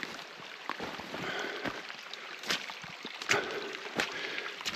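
Creek water runs along the right side of a road after heavy flow, a steady close rush with splashy bursts and no voices.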